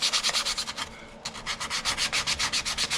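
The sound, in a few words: sanding a CNC-made wooden box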